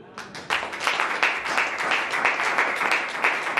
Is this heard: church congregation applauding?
yes